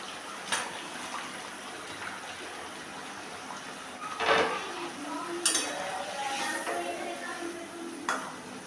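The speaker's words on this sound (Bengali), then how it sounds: "এখন আমি মাছগুলো দিয়ে দেব।" Stingray (shankar fish) pieces dropped one by one into a bubbling curry gravy in a pan, several soft splashy plops and clinks at irregular intervals over a steady low simmering hiss, close and moderately quiet.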